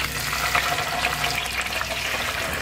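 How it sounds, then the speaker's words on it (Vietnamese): Mackerel fries in about three tablespoons of pork fat in a pan over medium heat, giving a dense, continuous close-up sizzle and crackle with no talk. "cho cái mỡ heo vô khoảng chừng 3 muỗng canh, cho cá vô chiên nè."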